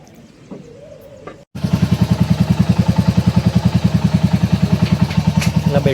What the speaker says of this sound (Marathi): चला गाडीला कोल्ड स्टार्ट करू आणि निघतो आता